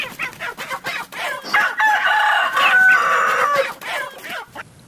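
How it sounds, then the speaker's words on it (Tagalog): Chickens squawk and cluck loudly up close, one bird letting out a drawn-out crowing call in the middle. "dahil sa ingay ng mga manok"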